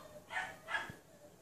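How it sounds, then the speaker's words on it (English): A puppy barks twice in quick succession, two short yappy barks at moderate distance, followed by quiet room tone. "Can you hear him? He's barking right now."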